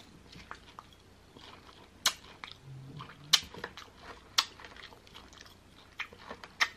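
Someone chews American candies close to the mic, with sharp crunching bites and wet mastication sounds repeating irregularly throughout in an otherwise quiet room.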